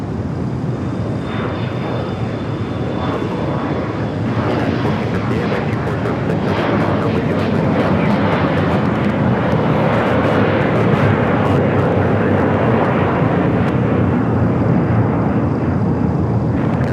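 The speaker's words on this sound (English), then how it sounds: "We got that E-jet rolling down 25 right." An Embraer E-jet airliner accelerates down runway 25 right at Los Angeles International Airport, its jet engines producing a loud, continuous broadband roar that holds steady for the whole stretch.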